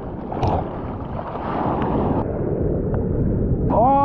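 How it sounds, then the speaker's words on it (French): Strong wind buffets an outdoor microphone at a surf spot in a continuous rough roar, with a short tonal squeal near the end. "Oh le vent!"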